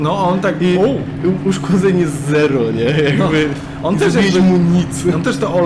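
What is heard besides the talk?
No everyday noises stand out.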